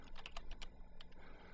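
Quick bursts of keystrokes on a computer keyboard, a fast irregular run of clicks while someone enters a console command in Eclipse, close and fairly quiet with no talking.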